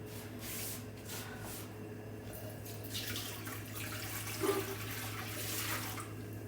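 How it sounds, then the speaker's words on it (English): Tap water pours into a container while vegetables are prepared for pickling, a faint, uneven splashing rush with a low steady hum underneath and a small clink partway through. "And then let's get some water."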